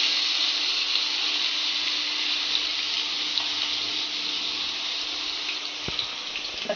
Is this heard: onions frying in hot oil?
yes